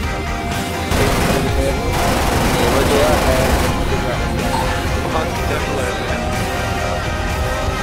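Dense, sustained gunfire and crashing battle noise from a video game run loud throughout with little break, while people talk over it.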